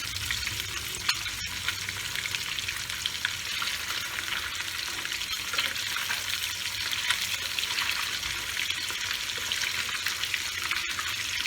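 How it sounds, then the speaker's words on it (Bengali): Pieces of fish fry in a small amount of oil with a steady, dense sizzle that stays close and even throughout, broken by occasional faint clinks and no speech. "মাছ ভাজা হয়ে গেছে, এবার আমি মাছগুলোকে তুলে নেব।"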